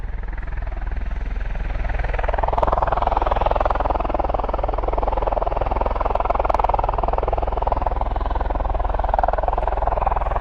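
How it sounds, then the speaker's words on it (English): A V-22 Osprey tiltrotor aircraft flies at RAF Mildenhall, its loud, steady rotor and engine drone filling the air and holding constant throughout. "V-22 Osprey, and based here obviously at RAF Mildenhall."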